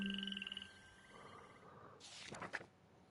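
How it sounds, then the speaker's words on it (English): Frogs in a night swamp in the video game The Plucky Squire croak in a soft, tuneful chorus. A pulsing trill is followed by a brighter, busier burst of croaks. "Check out those singing frogs."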